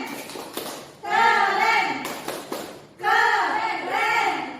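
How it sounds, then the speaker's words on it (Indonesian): Young children in a second-grade classroom perform a rhythmic cheer clap in two bursts, the patterned clapping joined by their chanting voices, with a teacher speaking briefly between bursts. "Kasih dia tepuk keren."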